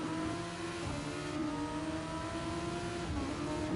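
A race car engine in Gran Turismo at the Dragon Trail Seaside circuit drones steadily from an onboard view, its pitch shifting slightly as it heads into a braking zone, faint and continuous.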